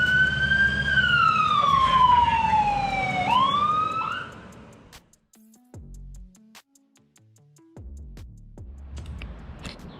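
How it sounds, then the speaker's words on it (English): An emergency siren wails nearby, sweeping down in pitch over a rumbling engine, then cuts off, leaving scattered clunks and quiet traffic noise. "They activate their lights so they can be seen, and they also use their sirens so they can be heard."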